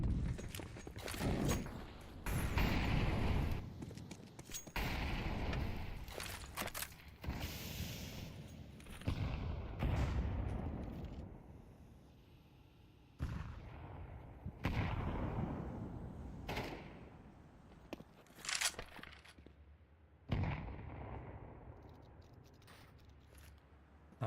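Tech 9 pistol and Desert Eagle gunfire in a Counter-Strike pro match, scattered sharp shots and bursts spread across the stretch, some loud and close, others fainter, with footsteps between and no talk.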